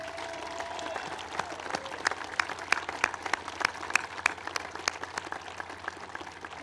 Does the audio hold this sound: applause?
yes